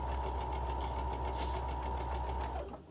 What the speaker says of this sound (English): I'm just going to keep my eye on where the needle is, and I'm just going to slide it over just 1 or 2 threads